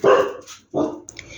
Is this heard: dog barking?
yes